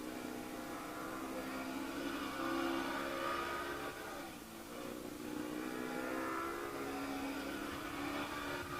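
Formula SAE race car accelerating hard on a skid pan, a loud steady engine drone with harmonic whine that dips briefly midway and then builds again, close and continuous with no talk.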